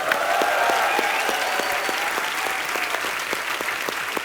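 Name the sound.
studio audience applause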